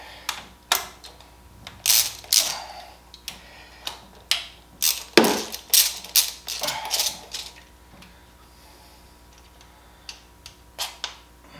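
A ratchet turns the valve cover bolts on a Toyota Matrix 1.8 L engine during a valve cover gasket job, giving close, sharp clicking bursts in uneven runs with short pauses between.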